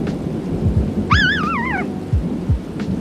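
A thunderstorm in the Toca Life World video game: steady rain hiss with low, rumbling thunder thumps scattered throughout, plus a brief warbling tone partway through.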